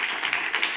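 Audience applauding as a speaker departs, a short dense wash of clapping with soft swelling peaks, fairly close and unaccompanied by talk.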